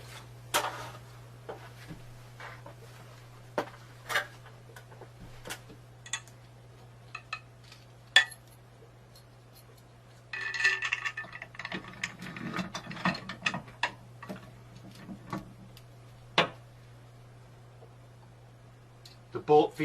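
A socket wrench ratchets a bolt and lock nut tight on a wall-mounted P90X pull-up bar, giving short clicking bursts and one longer ratcheting run over a steady low hum.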